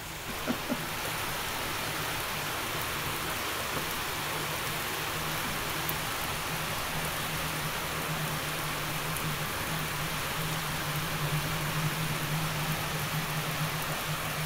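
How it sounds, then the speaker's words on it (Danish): Steady rain falling outdoors on a grey day, a soft, even wash of hiss that stays constant and fairly faint throughout, with a low hum underneath and no talking. "det bliver altså helt dags regn det her"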